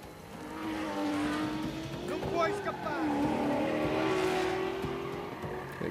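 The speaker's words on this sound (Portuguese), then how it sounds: "alguém tá correndo uma moto por aí" A motorcycle engine drones at a distance under game sound, its pitch rising and falling steadily as it is ridden around for several seconds.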